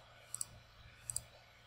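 Two quick pairs of faint, crisp mouse clicks sound about a second apart over a low, steady background hum while settings menus are opened in video playback software.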